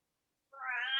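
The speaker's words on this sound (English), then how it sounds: "I think Dawn's cat isn't liking this conversation" A cat meows, a single rising, drawn-out call that starts halfway through and grows louder until the end, heard alone.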